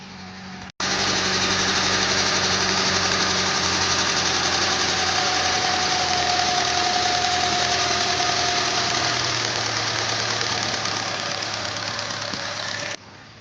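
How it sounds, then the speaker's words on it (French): A small carburetted engine idles steadily and fairly loud while its idle speed is turned down, the tone holding even throughout with a slight shift partway, starting and cutting off abruptly, with no voices. "je vais régler le ralenti avec cet outil que j'ai fabriqué"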